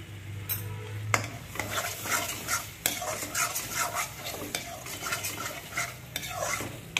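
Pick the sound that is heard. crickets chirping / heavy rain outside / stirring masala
stirring masala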